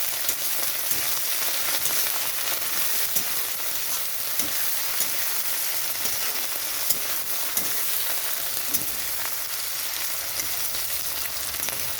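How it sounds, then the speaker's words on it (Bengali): Coriander leaves fry in hot spiced oil, giving a continuous, close crackling sizzle with scattered sharp pops that stays even throughout, with no voices. "ধনে পাতাটাও ভেজে নিতে হবে এরকমভাবে।"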